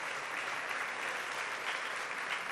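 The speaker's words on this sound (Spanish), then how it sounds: "Muchas gracias por esos aplausos que siempre vienen bien" Audience applause at the inaugural ceremony of the centenary of the Confederación Hidrográfica del Segura, a dense and even wash of clapping from a large crowd that carries on for the whole stretch.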